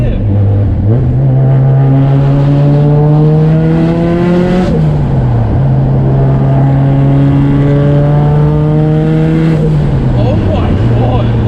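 A Nissan S14 with an SR22 engine revs and idles nearby, its loud, steady exhaust note rising and falling through two throttle blips, with people talking over it.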